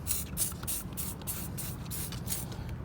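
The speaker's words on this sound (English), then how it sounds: "Now I'm just going to spray one more set into nothing and let it" Turtle Wax wheel cleaner sprayed onto car wheels in a string of short pump-spray hisses, about eight quick bursts at close range over a low outdoor rumble, with no voices.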